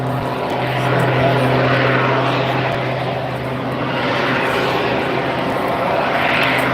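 A display aircraft at an air show drones steadily overhead as its propeller engine is throttled back, a loud, continuous hum with a low tonal buzz that holds level throughout.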